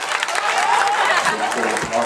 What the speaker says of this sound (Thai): ปรบมือกันดังครับ